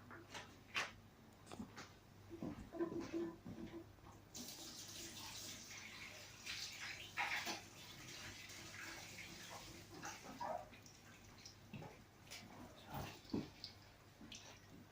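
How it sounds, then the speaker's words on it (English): Hands being washed under a running kitchen tap while baking scones: water streaming and splashing steadily for most of the stretch, rising louder midway, with rubbing and small splashes close by and no talk. "Now I'm going to wash my hands again."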